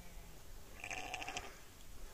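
Single sheep bleat from grazing sheep in a rural village in autumn, a short wavering call lasting about half a second, faint and somewhat distant over low outdoor background noise.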